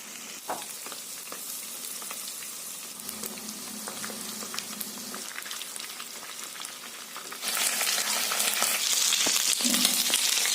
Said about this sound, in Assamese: তেল গৰম হৈছে আৰু মই এতিয়া চিকেনখিনি ফ্ৰাই কৰি ল'ম